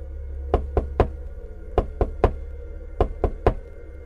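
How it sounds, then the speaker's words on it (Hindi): Knocking on a door in three groups of three sharp raps, evenly spaced and loud against a low steady hum, sounding like a Diwali-night horror-story sound effect. "हमें हमारे दरवाजे पे खटखटाहट की आवाज़ सुनाई देती है।"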